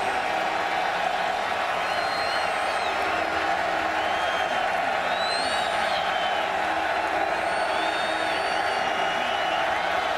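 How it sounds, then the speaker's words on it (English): A football stadium crowd roars in a steady, loud wash of cheering and whoops, with a game broadcast commentator talking over it throughout. "and this crowd now getting into it."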